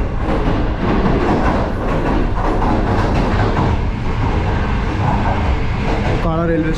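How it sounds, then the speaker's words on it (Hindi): Green Line Express train rolling through Okara railway station, a loud continuous rumble and clatter of rail cars passing at speed, with a brief tonal rising squeal or horn-like sound near the end. "ओकाड़ा रेलवे स्टेशन पर जबकि हमारी ट्रेन ने जो है यहाँ से थ्रू पास किया है।"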